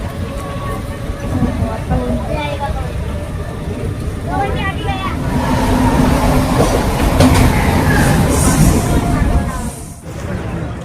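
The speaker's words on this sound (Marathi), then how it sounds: "यो ट्रेन आले" A Mumbai train rolls in with rumbling wheels, clattering carriages and metallic squeals building louder, while people talk over the noise.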